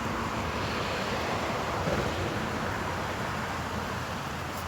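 Water runs steadily into a lemon tree garden outdoors, a constant rushing wash with wind, heard alone and unbroken throughout.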